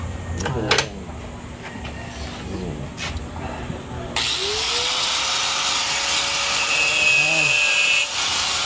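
An angle grinder cuts through thick metal for a medallion, a loud sustained whine that kicks in partway and holds steady, following a stretch of tapping and handling with voices talking nearby.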